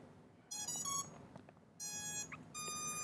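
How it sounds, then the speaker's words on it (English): A racing drone's flight controller gives three loud electronic beep bursts on reboot after its ESCs are configured, each a bright tonal chirp lasting about half a second, separated by short gaps against a faint background hum. "You'll hear a couple of beeps."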